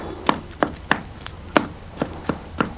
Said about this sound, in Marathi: थोडंसं गरम आहे त्यामुळं मी चमचाच आहे ना सगळं बारीक करून घेते